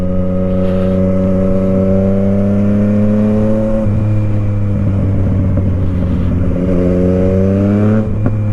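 A small moped engine drones loudly nearby, its buzzing pitch holding steady, dropping as it passes, then climbing again toward the end.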